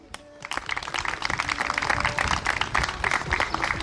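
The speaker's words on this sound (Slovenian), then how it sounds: "aplavz prosim zanj" Audience applause for the head of the regional office in Jesenice at a school event, a dense wash of many hands clapping that swells in after a brief pause and holds steady at moderate loudness.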